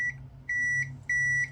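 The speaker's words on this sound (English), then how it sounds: "when I press the button you'll hear a beep." A multimeter gives three clear, steady electronic beeps, each about a third of a second long, while testing the continuity of a PC power button, with a faint hum underneath.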